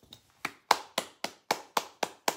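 Hands clap in a sharp, evenly paced run of about nine claps, close and fairly quiet, with nothing else heard.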